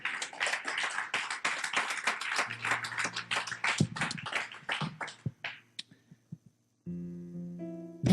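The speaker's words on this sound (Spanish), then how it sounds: "Dale palmas a aquel que vive" Church congregation clapping hands in a dense, rhythmic burst of many claps for about five seconds, then thinning to a few scattered claps before a soft musical tone comes in.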